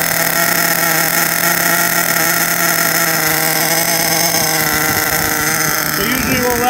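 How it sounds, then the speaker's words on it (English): Tamiya TA02SW RC truck's nitro glow engine idling with the glow plug igniter on, a loud, steady high-pitched buzzing drone that holds throughout, with a brief rise in pitch near the end. "usually we'll let the engine idle with the glow plug igniter on just for a little bit, just to get it running"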